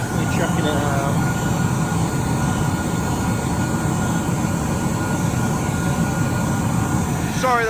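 A loud fan runs on farm machinery during late seed drilling, a steady broadband roar with a droning hum that stays constant and close throughout, masking the surroundings.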